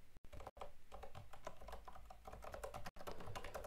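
Rapid typing on a computer keyboard, close and steady, with dense irregular key clicks running throughout and a few brief pauses.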